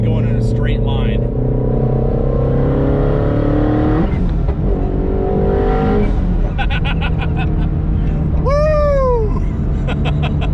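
Twin-turbo Ford Mustang GT350R engine heard from inside the car, revving loudly with rising harmonic sweeps as it accelerates and spools, gear changes breaking the pull, while people talk throughout.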